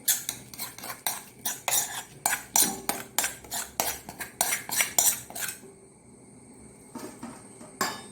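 Metal spoon scraping and clinking against a steel pan as cooled corn cutlet mixture is transferred into a bowl, a quick regular series of sharp close knocks, then a pause and a couple of final taps.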